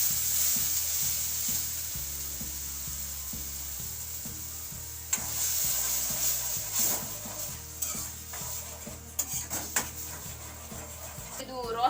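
Tomato-style puree sauce for tri-color pasta cooks with sautéed onion in a pan, a continuous sizzle and bubbling with repeated stirring scrapes and occasional utensil clinks, close and fairly loud.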